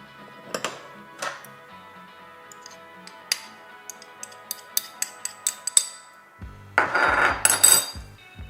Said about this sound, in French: On mélange de nouveau, enfin on fouette.